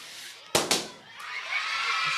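Balloons bursting during a balloon-blowing game at a children's event, two sharp pops in quick succession followed by a brighter, noisier stretch that could be crowd commotion.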